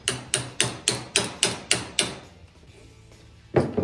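A hammer taps a metal socket down onto a PVC pole snare: eight quick, sharp, evenly spaced knocks close by, a short pause, then one more strike.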